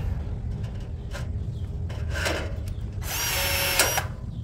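A cordless blind riveter DCPM50 setting a rivet in light steel or aluminium, a short whirring motor pull with a rising buzz ending in a snap, after some handling rustles, close up.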